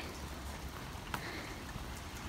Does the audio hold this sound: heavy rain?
yes